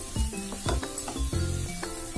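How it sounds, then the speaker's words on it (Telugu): Cauliflower frying with ginger garlic paste, stirred in a pan: steady close sizzle with repeated scraping strokes of the spoon at an uneven rhythm, no voices. "1 టేబుల్ స్పూన్ అల్లం వెల్లుల్లి పేస్ట్ చేస్తున్నాను వేసి బాగా మిక్స్ చేయండి"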